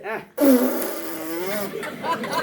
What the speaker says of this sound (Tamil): காத்து பிரிவது